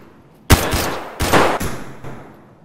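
SKS rifle fired at a scav walking down a hallway in Escape from Tarkov: a few loud, sharp gunshots about half a second apart, each with a short ringing tail, and no talking.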